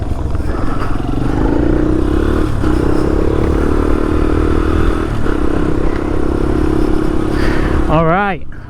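A street-legal dirt bike, freshly given a top end rebuild, runs steadily at close range with a continuous engine drone through most of the ride, ending in a brief rising whine.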